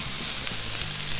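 Bacon sizzling on a Blackstone griddle, a close, steady crackling hiss of grease with no talking.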